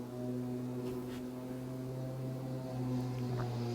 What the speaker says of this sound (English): Oh, great, my neighbor is mowing.